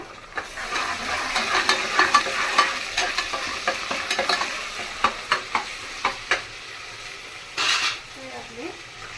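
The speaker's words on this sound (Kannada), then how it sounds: "ಇದಕ್ಕೆ ಸ್ವಲ್ಪ ಶುಂಠಿ ಬೆಳ್ಳುಳ್ಳಿ ಪೇಸ್ಟ್ ಹಾಕೊಳ್ಳೋದ, ಫ್ರೈ ಮಾಡ್ಕೊಡೋದ." Ginger garlic paste sizzles softly in a pan while a spoon scrapes and stirs, with repeated sharp metal clinks against the pan, close by in a home kitchen.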